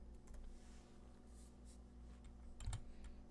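Quiet clicks of a computer keyboard as a single word is typed, a few soft key taps ending in a short cluster of louder presses, no voices.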